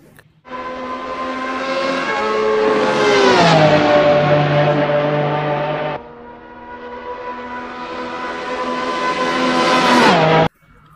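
Engine sound from a red toy Ferrari race car, loud and close, with a revving whine that climbs in pitch, dips, then rises again across two long acceleration runs before it cuts off abruptly.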